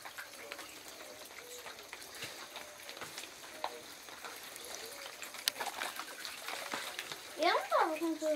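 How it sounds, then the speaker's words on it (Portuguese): Water trickles and flows steadily out of a rock at a cave site, with light splashing and people talking nearby. "Água da rocha, tá saindo água da rocha"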